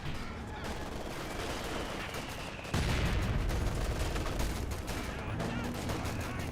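Machine gun bursts and a rifle grenade blast from Grenadiers hitting a .50 cal position in Company of Heroes 2, a dense, continuous rattle of gunfire that jumps louder midway with a heavy impact and keeps going.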